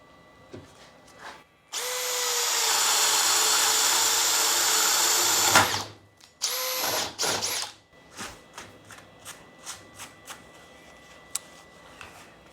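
A power drill spins a Diablo Speed Demon spade bit through wood, a loud steady whirring bore lasting several seconds, then a second shorter burst, followed by scattered light knocks and clicks.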